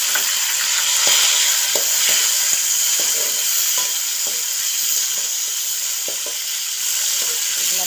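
Small shallots and chopped tomatoes sautéing in oil in a pan for an ennai kathrikai kulambu, a loud continuous sizzle with soft periodic stirring scrapes and no voices.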